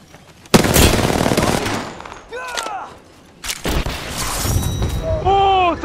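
Loud gunfire bursts, including heavy Kraber sniper rifle shots, in the Apex Legends video game, arriving in two dense blasts separated by a quieter gap, with short whistling and ringing effects between them.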